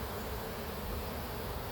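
A dense, steady hum of many honey bees buzzing together at an open hive, continuous and even, filling the space at close range with no voices.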